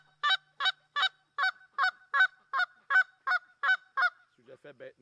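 A handheld Canada goose call is blown to imitate honks, giving about eleven sharp, evenly spaced, close two-note honks followed by a few softer, lower clucks at the end.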